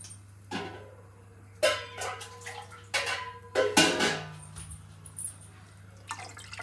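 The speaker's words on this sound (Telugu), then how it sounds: "నెక్స్ట్ అందులోకి వాటర్ పోసుకోవాలి" Water is poured into a kitchen bowl in short bursts, splashing and trickling close by, with light clinks of the vessel and a steady low hum underneath.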